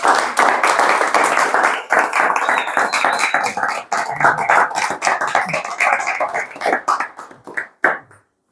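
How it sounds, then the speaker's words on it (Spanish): An audience applauds a speaker named Juan at the close of a talk, with dense, steady clapping from many hands that thins into scattered claps and a few last slaps before stopping. "Un aplauso para Juan."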